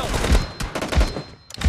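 Gunfire in a shooting video game comes as several short, loud bursts of rapid shots spread through the moment, separated by brief quieter gaps.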